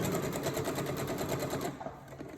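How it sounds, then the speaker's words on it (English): A sewing machine runs steadily at a controlled medium speed while fabric is turned through a curved crotch seam, its fast regular stitching loud and close before easing off near the end. "you gotta turn your fabric as you're sewing"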